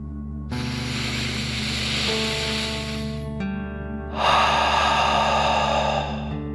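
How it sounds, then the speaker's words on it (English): Slow, deep breathing with one long drawn-out inhale followed by a strong exhale, close and loud against soft sustained background music. "Deep breath, in and out."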